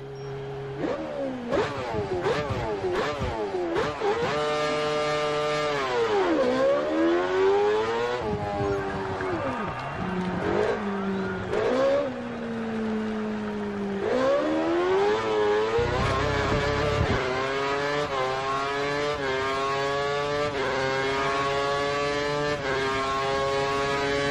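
A Formula 1 car in the F1 2013 video game accelerates hard: a loud, close engine whine climbs in pitch through repeated gear changes, drops and rises again in waves, with no talk over it.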